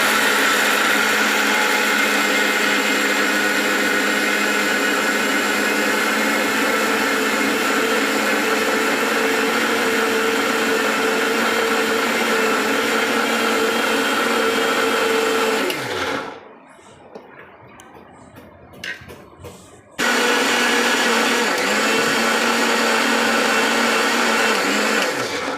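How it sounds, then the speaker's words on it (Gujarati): An electric mixer grinder whirs loudly and steadily as it grinds yogurt for dhokla batter, then cuts out for a few seconds of quieter rattling before roaring back to full speed. "આ રીતે પીસી લેવાનું છે, એકદમ ફાઇન પેસ્ટ."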